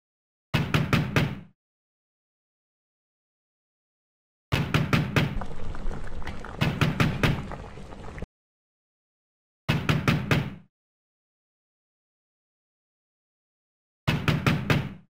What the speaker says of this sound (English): Why would someone just bang on the door like that?